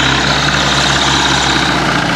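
A tractor engine runs while plowing a farm garden, giving a loud, steady, close-up drone with a heavy low rumble and no voices over it.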